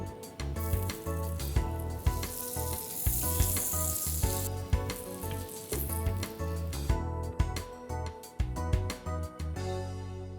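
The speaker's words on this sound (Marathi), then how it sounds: "आपण ज्या पॅनमध्ये तडका दिलाय त्याच्यात आपण पाव शेकून घेऊया" Pav bread toasts in the pan that still holds the tadka from a veg keema pav recipe. The sizzle is loud and crackling throughout, with repeated metallic scrapes and clinks of a spatula.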